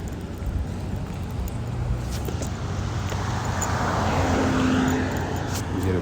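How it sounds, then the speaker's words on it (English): Steady road traffic with cars rolling past, a continuous broadband roar at moderate level with no break, wind noise mixed in. "And too many cars around here."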